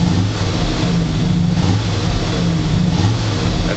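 A 1976 Ford F-100 Ranger pickup's engine revs loud and close, a steady low rumble rising and falling in a few surges with no voices over it.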